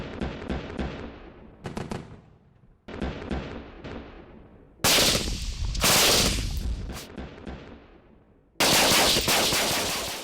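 Soldiers fire automatic rifles at a desert firing range, loud rapid bursts sounding close, separated by short pauses and echoing out across open ground.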